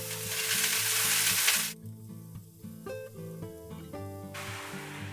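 Spinach hits a hot pan of sautéed onion with a loud burst of sizzling that cuts off abruptly, followed by quieter crackle under steady tonal background music.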